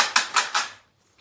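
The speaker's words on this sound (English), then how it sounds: "I've put some pasta in an empty bottle and it sounds like this." A homemade shaker made from dry pasta in an empty bottle is shaken in three quick bursts, giving a crisp, rattling, clattery sound up close that stops abruptly, followed by near silence.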